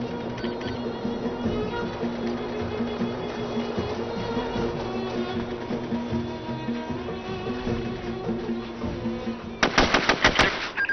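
Gunfire in the video game SOCOM 2, with a sudden loud burst of rapid automatic shots near the end following a stretch of low game ambience and music.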